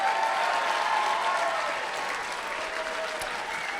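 A crowd applauds Senate candidates at a political forum in Arizona, broad sustained clapping that holds steady and eases slightly toward the end.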